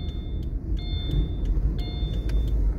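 A car rumbles past outdoors, a steady low engine drone holding throughout with a few faint high beeps and clicks scattered over it, moderately loud and close, with no talking.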